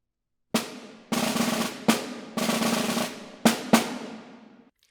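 Soft snare drum passage from a percussion etude, played as a masterclass demonstration: a short series of quiet strokes and brief rolls with gaps between them, each decaying quickly, with no voices.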